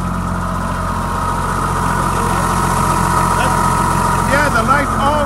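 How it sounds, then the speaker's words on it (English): The engine of a Wacker light tower runs at a steady idle, loud and close, a constant mechanical drone with someone talking over it. "And the motor sounds really good."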